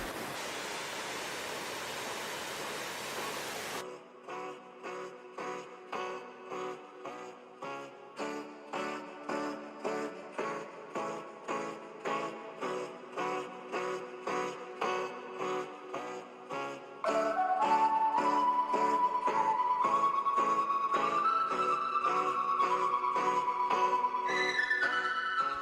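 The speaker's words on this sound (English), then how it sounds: "The waterfalls begin just after the Ölfusá River makes a perpendicular turn and then cascades down a 3-step staircase into a canyon" A waterfall on the Ölfusá River tumbles down a three-step staircase into a 115-foot-deep canyon, heard as a dense, even roar for the first few seconds before rhythmic instrumental music takes over.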